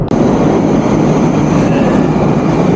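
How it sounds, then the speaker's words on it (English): Moscow metro train, an older-style carriage, rumbling steadily with a dense broadband roar throughout, loud and close, with no talk. "The Moscow's metro train, they don't look that modern."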